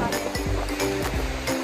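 Strong waves roll onto a Boracay beach on a windy day, a loud continuous roar of surf and gusting wind with repeated surging swells and no talking.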